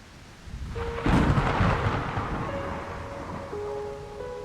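A deep thunder crash from a lightning strike in the hack-and-slash roguelite VOIN, loud rolling rumble with rain-like hiss and sustained eerie synth tones underneath.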